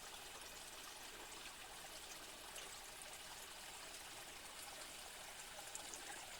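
A small stream babbles over cascades in a rocky gorge, a soft, steady trickle of water heard from some distance, faint and unbroken, with no voices.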